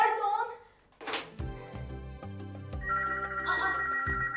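A telephone rings in an office in a Turkish sitcom scene, with electronic ringtone bursts coming in and out over a voice and a few thumps, moderately close and fairly quiet.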